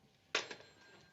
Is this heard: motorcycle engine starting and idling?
no